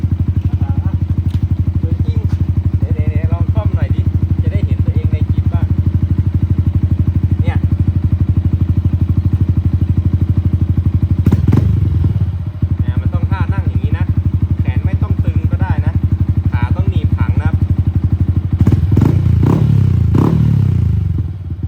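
A 2019 Yamaha YZF-R15 fitted with a long aftermarket exhaust idles loudly and steadily close by, with a few brief blips and some clattering noises, while someone talks over it.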